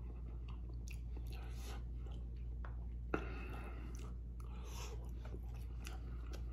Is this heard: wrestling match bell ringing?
no